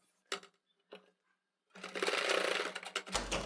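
A sewing machine stitches a round piping neck onto a garment, running in a long steady burst after a couple of short taps, close and loud with no talking.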